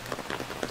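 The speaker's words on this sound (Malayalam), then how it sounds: "നല്ല മഴയുണ്ട്" Steady rain falling on a walk through a rural village path in Kerala, a continuous close patter with scattered heavier drops, heard alone without voices.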